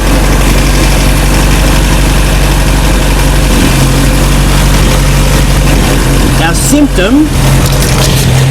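A classic 1968 Commer 2500 van engine idles steadily with the choke pulled well on, giving a close, even low drone with a brief uneven wobble near the end.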